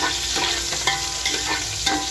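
Coriander seeds stirred into onions frying for Hyderabad-style biryani, a steady close sizzle with a few scraping stirs of the spoon across the pan.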